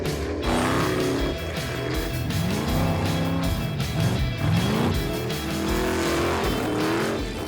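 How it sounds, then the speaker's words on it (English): Roadkill's Vet Cart project car doing a burnout, its engine roaring steadily and loud up close, with tire squeal rising and falling in waves throughout and no talk. "the Vet Cart is amazing at burnouts"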